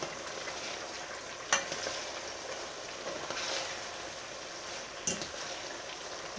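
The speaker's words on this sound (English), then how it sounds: "once I get them in, I will coat them with the oil, with the onion" Tortillas frying in hot oil with onion, a steady close sizzle with a couple of brief stirring clatters, no talking.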